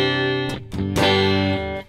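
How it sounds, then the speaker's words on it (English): Electric guitar played through a Brit and Clean preset in Logic Pro, with noise gate, compressor and switched-off distortion pedal: a few plucked chords ring out clean and bright, each sustaining before a quick cutoff at the end. "As soon as I play the guitar, it passes through out the other side"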